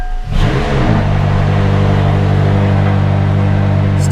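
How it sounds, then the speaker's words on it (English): A McLaren supercar engine runs close and loud in a steady, muffled turbocharged drone, rising briefly at the start before holding an even tone throughout, with no talk. "You do get that muffled turbo sound with this car"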